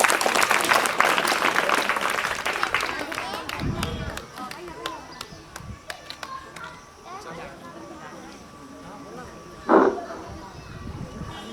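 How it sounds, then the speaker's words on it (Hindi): Applause from the crowd at an International Yoga Day honouring event in Sitamarhi, dense and loud at first, thinning out after about four seconds, with voices talking over it and a brief burst near the end. "तालियां तालियां तालियां।"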